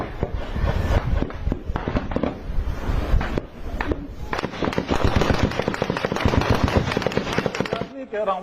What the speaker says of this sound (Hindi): देखिए टीटीपी के लड़ाके कैसे जबरदस्त गोलीबारी कर रहे हैं